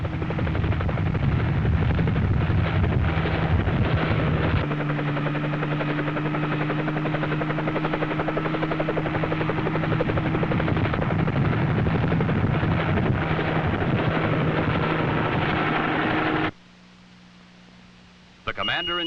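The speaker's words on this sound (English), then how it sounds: "The president then boarded a nearby helicopter for an aerial tour of the space launch areas" A 1963 military helicopter flying an aerial tour over space launch areas, a steady loud rotor and engine drone that runs on without a break and cuts out near the end.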